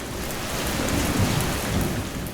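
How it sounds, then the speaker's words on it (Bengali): Heavy rain pours down in a cartoon village scene: a dense, continuous roar of rainfall with a low rumbling undertone, loud and close, no voices. "ওই ওই শোনো বৃষ্টি আরো জোরে আসছে"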